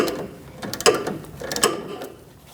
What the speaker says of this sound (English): Use a 19mm on the other side and tighten the nut down.